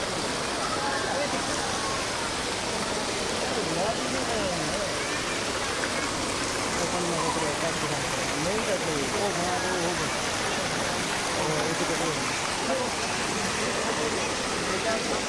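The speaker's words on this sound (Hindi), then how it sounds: "हल्की फुल्की बारिश हो रही है, लेकिन इतनी हल्की भी नहीं है" Light but steady rain falls outside the KLCC mall in Kuala Lumpur, Malaysia, a continuous broadband patter and wash with no break, while people talk throughout.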